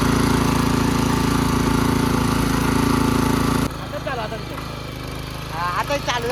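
A 7 hp mini tractor engine runs loud and steady with a droning hum close by. After a few seconds it drops to a lower, rougher idle while people talk over it.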